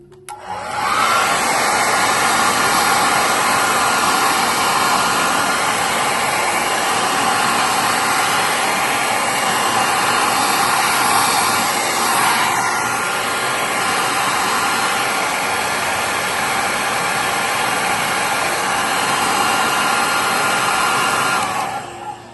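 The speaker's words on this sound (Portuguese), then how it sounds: "o secador e vou acelerar" A hair dryer blows continuously at full power, used to speed-dry paint on a biscuit-clay focaccia box, producing a loud, steady whooshing drone that switches on at the start and cuts off at the end.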